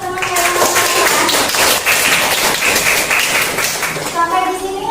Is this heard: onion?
no